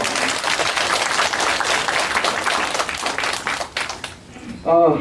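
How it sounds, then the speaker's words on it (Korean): An audience at a landscape architecture lecture event in a university hall claps loudly for about four seconds before the applause fades and a voice begins speaking. "사장님 박수 부탁드릴게요."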